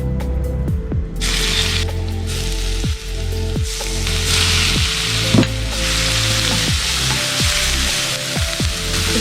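Crushed ginger, garlic and curry leaves hit hot coconut oil for a pepper chicken fry, bursting into a loud, continuous sizzle, with spoon scrapes and knocks against the pan recurring throughout.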